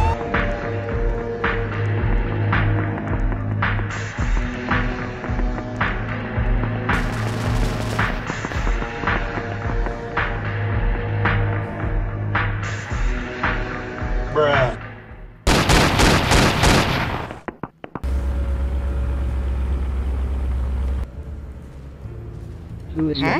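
Gunfire bursts in the Roblox game The Neighborhood of Robloxia during a police patrol, loud and rapid near the end over steady game music and sound effects.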